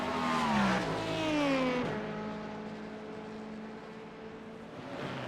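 An LMP2 prototype race car engine in iRacing, revving loud and high, then dropping pitch through gear changes as it settles to a steadier drone, with faint tire noise.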